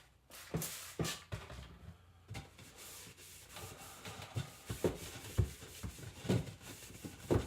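Someone wipes a custom ABS air tank by hand with plain water, making close, quiet rubbing and scrubbing strokes in an uneven rhythm, with soft squeaks and thumps between the wipes.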